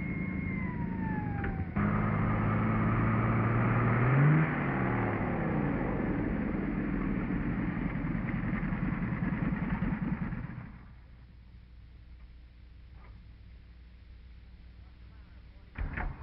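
A car engine roars loudly on the road with a rising rev, then drops away sharply to a low rumble in the last seconds; a voice speaks briefly.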